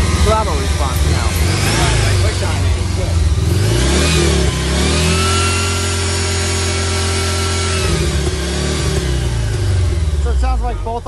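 Engine of a 1987 VW Vanagon Syncro revving repeatedly with quick throttle response, pitch climbing and dropping in loud, close blips, with voices talking over parts of it.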